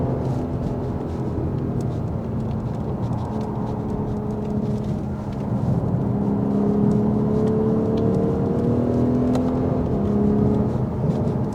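A Lexus RC F accelerates around a race track, its engine note rising in pitch through a long, loud pull, then settling into a steady, close-up drone.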